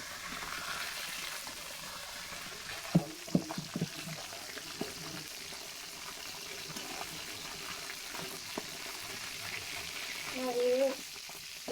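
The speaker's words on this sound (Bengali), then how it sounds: "মাছগুলো আমি খুব বেশি ভাজবো না অল্প ভাজবো" Parshe fish fry lightly in oil, a soft, low sizzle with a few sharp utensil knocks and a brief louder bubbling burst near the end, with no talk.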